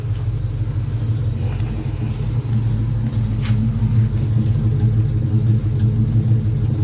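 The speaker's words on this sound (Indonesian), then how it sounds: "kalau stasioner nggak kedengeran, tapi begitu RPM tinggi dia akan melengking" Toyota Kijang engine with a racing exhaust, a steady low rumble close by with a slight rise in revs, playing on its own.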